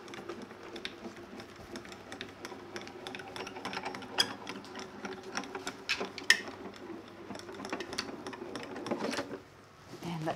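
Craft die-cutting machine pressing a detailed paper die, a steady mechanical grinding and ratcheting hum with scattered clicks, fairly quiet, under some nearby speech.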